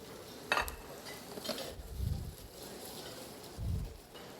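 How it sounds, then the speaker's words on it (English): Swiss chard searing in a hot pan on high heat, a faint quiet sizzle with a few soft clatters and low bumps of stirring or the pan shifting. "I want to sear this Swiss chard"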